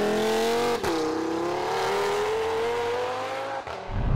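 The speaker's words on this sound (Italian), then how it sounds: "non è il suono dello scarico quanto il suono del 5 cilindri Audi" Audi TT RS five-cylinder engine tuned to 600 hp and 700 Nm, revving hard with a rising, steady exhaust drone and brief gear-change dips, close and loud.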